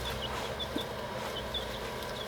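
Newly bought chickens give soft, faint clucks and a few short chirpy calls spread across a quiet, steady background, with no voices.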